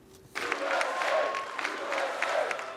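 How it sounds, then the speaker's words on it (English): Crowd applause and cheering on election night 2016 for Donald Trump, a broad steady wash of clapping that swells in after a quiet start and holds at moderate distance. "Election night 2016, and Donald Trump is soaking up the applause, surrounded by his children."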